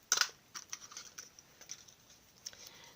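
A 1.5 inch circle punch cutting card stock for a unicorn card's ear shape, giving one sharp, loud crunching snap at the start, then a few fainter clicks and taps as the paper and punch are handled.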